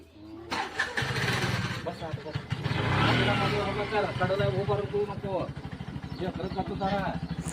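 An auto rickshaw engine starting up, cranking into a rough, rapidly pulsing idle that stays close and steady, with people talking over it.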